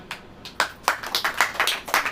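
A church congregation at a Hindi Christian sermon claps together in a steady rhythm, about eight sharp, close hand claps in quick succession.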